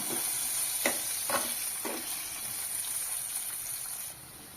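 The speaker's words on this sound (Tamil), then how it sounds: "இப்போ முதல்ல இதை கலந்து விடுங்க இது வேகட்டும்" Raw banana slices frying in hot oil, with a steady loud sizzle throughout and three spaced scraping strokes of a spatula as they are stirred, close up.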